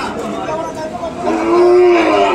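An Ongole breed calf at a busy cattle market lets out a single drawn-out moo, loud and near, over faint crowd chatter.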